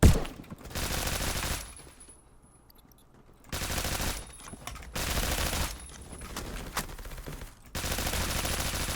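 Automatic gunfire from the Honey Badger rifle in the shooter game Phantom Forces, fired in several long sustained bursts separated by short pauses, loud and close with no talking.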